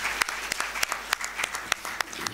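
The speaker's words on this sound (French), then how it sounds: "M. Moustapha Diop, que je vous demande d'applaudir." Audience applause at a book signing for a medical novel, a steady patter of clapping from a modest crowd with sharp individual claps standing out, fairly close and moderately loud.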